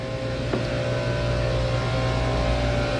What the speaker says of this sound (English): These are the engines. They are a pair of Detroit MTU diesels, 965 horsepower each.